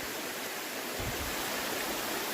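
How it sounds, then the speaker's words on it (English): Steady, broadband rush of St. Mary's Falls as a lot of water rolls down the falls, heard close and continuous with no voices. "St. Mary's Falls. Beautiful. There's a lot of water as it rolls down through here."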